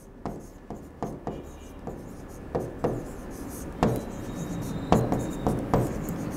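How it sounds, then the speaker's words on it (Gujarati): Pencil compass scratching an arc of 4 cm radius on paper, heard as a run of short, dry scraping strokes at an uneven, roughly steady pace, close and clear with no talking. "યુને કેન્દ્ર લઈ 4 સેન્ટીમીટર ત્રિજ્યાની એક ચાપ દોરો"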